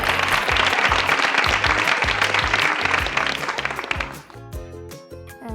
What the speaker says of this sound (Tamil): ஒரு அரங்கம் நிறைந்த கைத்தட்டல்